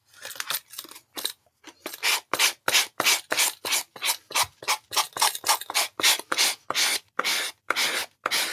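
Rapid rhythmic scraping of sanding tools rubbing against thick paper, close and steady strokes repeating many times with brief gaps, no talking.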